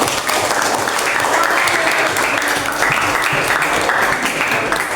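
A room full of people applauding in Indonesia, loud and continuous clapping that fills the whole clip at a steady level.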